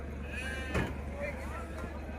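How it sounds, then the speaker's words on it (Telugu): Sheep bleat faintly at a busy sheep market in Gudur, thin calls rising over a constant crowd murmur and nearby talking. "అలాంటి గొర్రెలే ఉన్నాయి"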